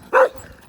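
A dog lets out a single sharp, close bark, brief and loud, followed by quiet.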